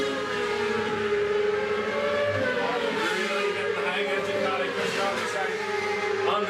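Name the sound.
Ducati superbike engine accelerating during road race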